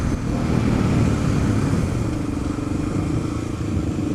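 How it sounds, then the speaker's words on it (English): A Suzuki DRZ250 dirt bike engine runs close by, a loud throbbing motor with clattering mechanical texture that eases slightly as it goes, no voices. "Seeing how this DRZ250 actually runs."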